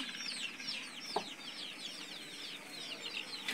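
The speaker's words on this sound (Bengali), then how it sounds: "একটা মুরগি এখন ঘরে আছে" A native hen indoors makes faint, rapid, repeated high-pitched clucking calls, with a couple of soft knocks in the background.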